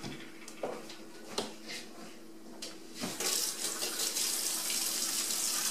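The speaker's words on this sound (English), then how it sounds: "We're going to wash our hands and we're going to get started." Hands are washed under a running kitchen tap at a farm. A few light knocks and clicks come first, then the water gushes steadily and loudly for the last few seconds.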